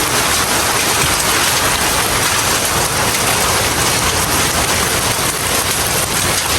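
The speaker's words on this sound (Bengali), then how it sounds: "শিলা বৃষ্টি হচ্ছে।" Hail pours down during a heavy hailstorm, the ground turning white with large stones; a dense, steady, loud hiss and patter of impacts fills the whole stretch with no break and no voices.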